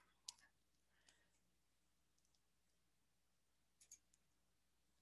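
A computer mouse clicks a few times in a quiet room, soft and close, with a couple of isolated clicks and a small cluster near the end over faint background hum.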